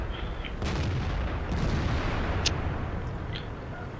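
Loud booming cannon shots from an IS-3 tank in World of Tanks, a couple of sharp blasts over a steady low rumble of battle noise.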